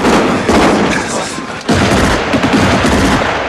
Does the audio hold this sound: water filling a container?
no